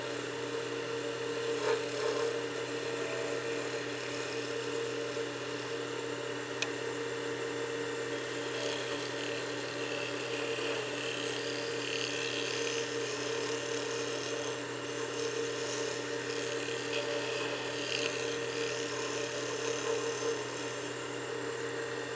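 A skew chisel cuts wood on a lathe, giving a steady, even rubbing hiss over the constant hum of the spinning machine, continuous and close with no talking.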